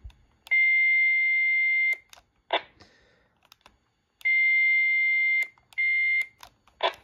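A Baofeng UV-82 or UV-5R dual-band handheld radio sends 1750 Hz tone bursts, steady electronic beeps of varying length. Short clicks and static blips come between the bursts in an otherwise quiet room.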